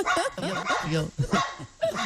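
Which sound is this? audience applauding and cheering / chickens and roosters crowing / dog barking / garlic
dog barking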